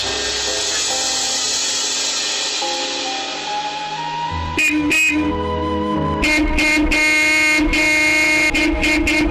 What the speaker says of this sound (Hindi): बाबा मैं कब से हॉर्न बजा रहा था